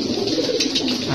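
A large-bodied, competition-trained pigeon in a loft gives a close, continuous cooing that fills the short moment without any voices over it.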